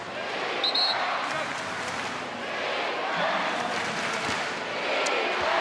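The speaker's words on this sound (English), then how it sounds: "Sellout crowd." A sellout crowd fills a basketball arena during an NBL semi-final between the Illawarra Hawks and Sydney Kings with a dense, steady roar of cheering that swells at times, with sneaker squeaks and a commentator's voice in the mix.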